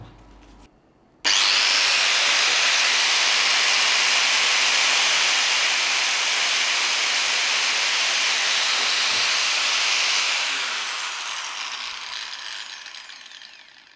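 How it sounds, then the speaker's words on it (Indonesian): An angle grinder runs at full speed on a no-load RPM test, a loud, steady high-pitched whine that starts abruptly, holds, then winds down near the end. "Biasanya di atas 80 ya untuk sebuah gerinda. Ya, lanjut kita cek untuk RPM-nya ya"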